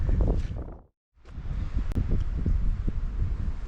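Breezy wind gusting through a shaded valley near Alport Castle in the Peak District, a steady close rush of air noise on the microphone that cuts out briefly then returns, with faint rustling throughout.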